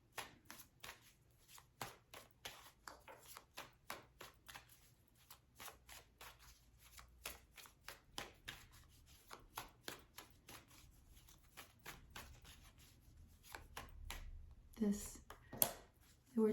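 Soft, repeated tarot card shuffling and riffling, close and quiet, with light taps and rustles in an otherwise hushed room.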